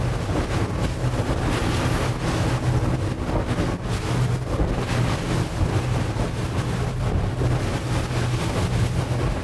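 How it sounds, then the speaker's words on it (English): Water rushes and splashes steadily against a moving boat running level through the water in the Bahamas, with a low engine-like drone and wind noise underneath, no talking. "the boat is always running perfectly level through the water so it can cut through the water"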